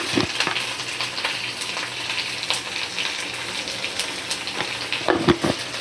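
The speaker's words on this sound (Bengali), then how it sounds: "এবার ভালো করে ভেজে নিচ্ছি আলুটা" Potatoes fry in a pan with chili, ginger paste and tomato, giving a steady close sizzle with scattered spatter pops and a few stirring clatters near the end.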